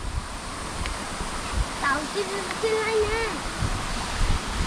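A hidden waterfall at Zirad roars as a steady broadband rush of falling water, with someone speaking briefly over the constant noise.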